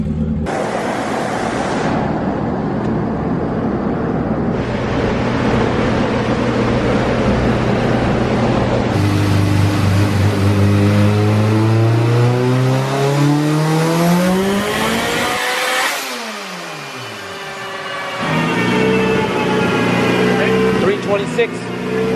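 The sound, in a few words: turbo car revving on a dyno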